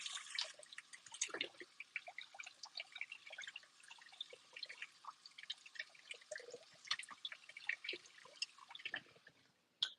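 Sweet potatoes are rinsed under a running tap in a kitchen, with faint water splashing and trickling and scattered soft drips and knocks throughout, no talk.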